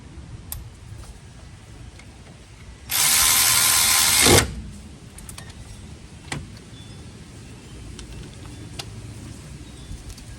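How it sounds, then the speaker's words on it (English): A big ratchet tightens brake caliper bolts on a 2008 Honda Civic during a pad and rotor job, giving one loud burst of rapid clicking lasting about a second and a half amid quiet workshop ticks. "Then I always get a big ratchet and go through and make sure they're nice and tight."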